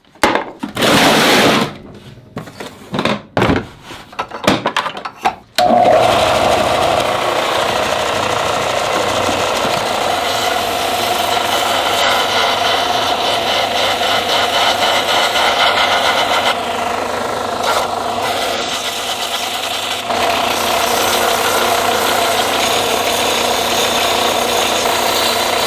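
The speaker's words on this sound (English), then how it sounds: "Now I'll smooth this out with a belt sander." A belt sander works a wooden ice cream scoop handle, starting with a few choppy bursts before running as a continuous loud whine with the pitch shifting as the wood is pressed against it.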